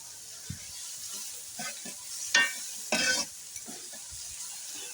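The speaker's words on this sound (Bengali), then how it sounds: "এবার আমি পেঁয়াজ কুচি এবং কাঁচামরিচ কুচি দিয়ে দিলাম তেলের ভিতরে" Chopped onion and green chillies frying in oil for a village-style bitter gourd and tengra fish curry, a soft sizzle with scattered stirring knocks and two short louder hissing bursts, no talking.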